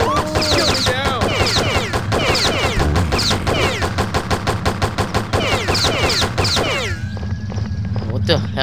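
Rapid gunfire in the video game Postal, dense bursts of shots crackling under continuous overlapping game voices and shouting, with a brief quieter stretch near the end before shots resume.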